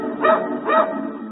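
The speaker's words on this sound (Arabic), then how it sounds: "نباح الكلب" A dog gives two clear, close barks about half a second apart, each loud and sharp, with no talk around them.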